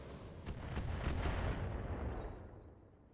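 Missile barrage from mechs in the BattleTech video game: a dense, rumbling wash of rapid launches and blasts that swells over the first second and a half, then slowly fades out.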